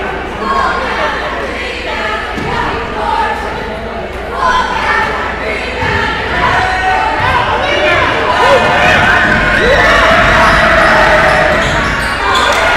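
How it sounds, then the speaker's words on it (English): At a girls' high school basketball game between USN and Antioch, the home crowd cheers and chatters after a missed free throw, a sustained roar with sneaker squeaks and bouncing, and a voice talking over it. "crowd is certainly happy about that one."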